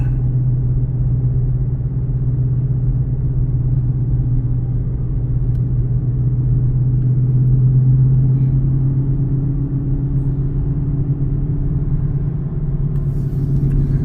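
A car engine held at high revs while cruising along a road past Manassas National Battlefield Park, a steady low drone and rumble that stays loud and even throughout, with no voices.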